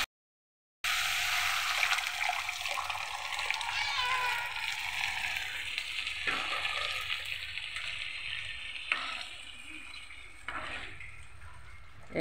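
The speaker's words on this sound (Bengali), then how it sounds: "এর মধ্যে এখন সিদ্ধ ডালটা ঢেলে দেব।" Boiled lentils are poured into a hot pan of frying spices and stirred, giving a wet hissing sizzle that starts abruptly after a brief silence and continues with soft scraping, near and steady.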